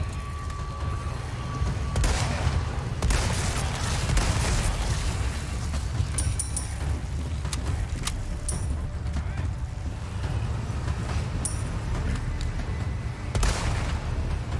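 Rocket launcher explosions and gunfire in the Resident Evil 4 Remake video game: several sharp, loud blasts at irregular intervals over a constant rumbling bed of combat noise.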